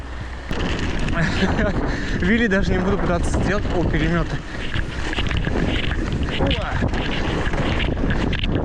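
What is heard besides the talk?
strong wind in a Siberian January blizzard, cycling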